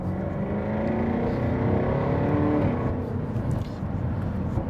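A supercharged straight-six in a Jaguar F-Type revs with a deep, steady rumble and rising whine, loud and close throughout with no speech over it.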